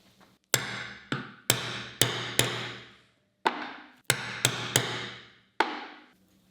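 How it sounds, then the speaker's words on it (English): A hammer striking a hollow punch to cut holes in fabric flaps for a balcony sun shade, giving about ten sharp, ringing metallic blows in an uneven rhythm, close and clear with short decays and pauses between them. "I can now close it and make holes with a hollow punch"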